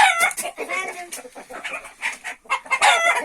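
Hens clucking loudly and close in a coop during egg collection, a busy overlapping run of cackles and squawks with brief pauses.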